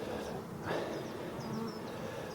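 Honeybees swarm over a hive frame with drawn wax comb, giving a continuous close, dense buzzing hum with a few higher whines from single bees passing near.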